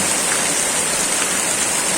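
Heavy, continuous rain pours down in Dhaka city, a dense unbroken hiss of water without pauses or voices, close and loud throughout.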